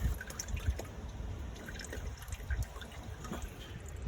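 Used motor oil drains from a car into a drain pan in a steady, quiet trickle with faint drips, heard close and alone.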